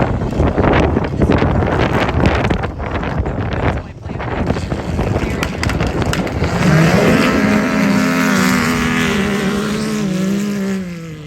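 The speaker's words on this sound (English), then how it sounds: "I wonder if you guys can hear the wind." Strong wind buffets the microphone outdoors at an ATV and side-by-side mud race, a loud steady roar, joined later by a passing engine's rising whine; someone talks under it.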